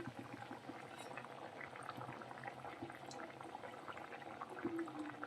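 Wheat flour chakri spirals deep-frying in hot oil, a steady bubbling sizzle with dense crackle that runs evenly throughout, close and moderately loud, with no voices.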